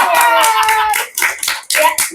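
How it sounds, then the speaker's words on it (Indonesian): A few sharp hand claps break in among talk and laughter on a lively talk show, brief bursts that come in irregularly. "Tepuk tangan dulu dong."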